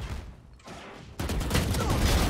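Gunfire in the video game Valorant, a muffled burst that jumps to a louder, sustained volley of rapid shots in the second half, without talk over it.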